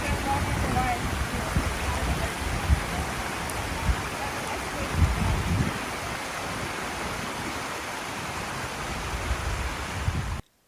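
Oregon's lower falls, a waterfall dropping 224 feet from a cliff, give off a continuous broadband roar of rushing, splashing water that stays steady and fairly loud throughout.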